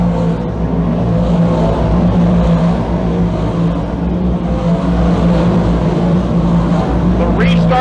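358 modified dirt race cars roar around the Can-Am Speedway dirt oval in a feature race, a loud, dense and continuous engine drone with a steady low rumble throughout.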